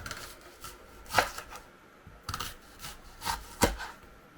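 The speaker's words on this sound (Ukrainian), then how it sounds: "Для цього наріжемо кільцями приблизно не дуже тоненько, приблизно 4-5 мм товщиною." A knife slicing an onion into rings about 4-5 mm thick on a cutting board, several separate crisp chopping strikes at uneven intervals, close and fairly quiet, with no talking.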